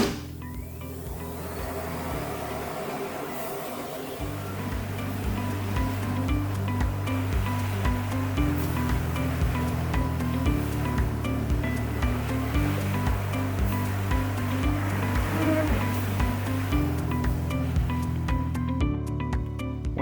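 An RX40 floor cleaning machine runs continuously with a steady motor whine and a low, rhythmically pulsing drone, close and even in level throughout.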